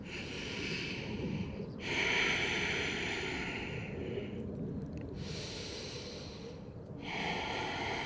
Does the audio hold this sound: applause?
no